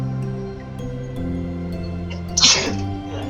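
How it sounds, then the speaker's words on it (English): A single sharp sneeze bursts out over a steady sustained musical tone, loud and brief near the end, with no one talking. "I need to sneeze."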